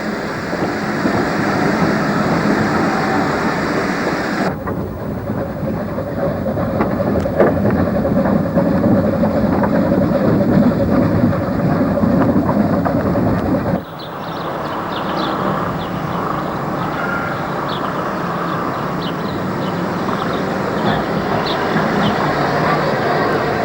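A train rumbles past steadily at a railway line extension run, broad and loud throughout, with a sharp shift midway as a carriage or locomotive passes and a brighter rattling texture continuing afterward.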